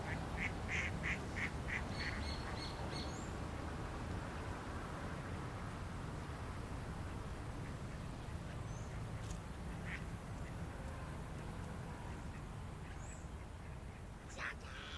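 Ducks quacking at a park duck pond, several distinct quacks early on and scattered calls later, set against steady outdoor background noise.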